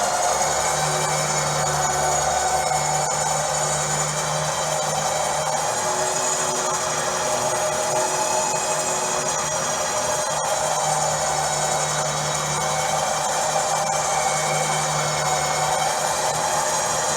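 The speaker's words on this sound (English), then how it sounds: "So we will continue to spool it in and see what happens." Badland Apex 12,000 lb winch with wireless remote spooling in synthetic rope, a steady loud electric motor whine with gear drone, continuous and unbroken for over fifteen seconds.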